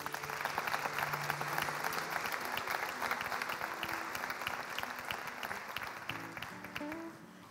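Warm applause from a congregation welcoming children of a church Bible school onto the stage for a drama about Old Testament characters, steady and sustained clapping throughout before easing off at the end.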